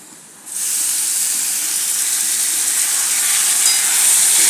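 Tomatoes tipped into onions frying in a pan burst into a sudden loud sizzle that holds steady and bright for several seconds, with no voices over it.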